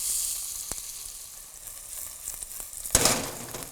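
Whole spices, black pepper and cloves crackle in hot oil for a Sindhi mutton curry, a steady close sizzle with a brief sharp burst of spattering near the end.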